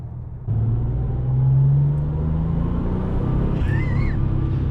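An air-cooled Porsche 911 Turbo engine of the 964 or 993 generation, starting with a sudden cut-in and droning in a steady low rumble from inside the car, swelling briefly as the revs climb, no talking.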